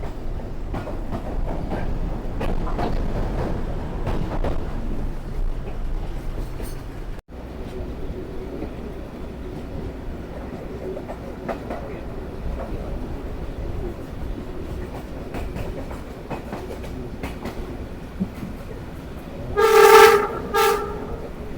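A Sialkot Express train rumbles steadily over an underpass bridge on the Lahore to Sialkot route, with a continuous rolling roar of wheels and carriages and a loud horn blast near the end.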